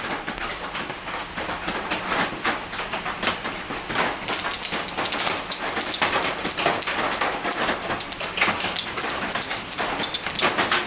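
Dried red chilli and a pinch of cumin hit hot oil in a pan, giving a dense, continuous crackling sizzle that stays loud and even throughout.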